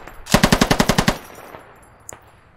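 A loud, close burst of about ten rapid PKP machine gun shots in the video game Squad, fired in an even rhythm, followed by a short echoing tail and one distant single shot.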